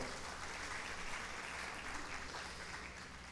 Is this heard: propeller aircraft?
no